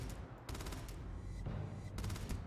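Rapid automatic gunfire in the sci-fi video game Starfield, quiet bursts of repeated shots with short gaps between them, heard without talk.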